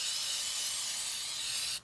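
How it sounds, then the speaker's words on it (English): An aerosol can sprays adhesive onto a glitter card in one close, steady hiss lasting nearly two seconds before cutting off abruptly. "So I'm just going to spray my card."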